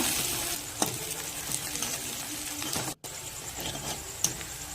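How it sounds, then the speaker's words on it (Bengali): Chopped onions frying in a pan until reddish brown, a steady close sizzle with occasional stirring scrapes and a brief dropout partway through. "এবার পেঁয়াজটাকে লাল লাল করে ভেজে নিব"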